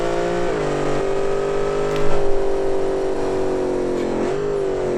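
A dragster engine in the racing game Automation revs hard and accelerates, a loud close droning roar whose pitch steps up through automatic gear shifts, with a brief pulsing burst midway.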